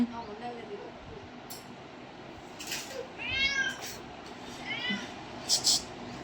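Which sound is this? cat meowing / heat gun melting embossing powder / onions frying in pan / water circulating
cat meowing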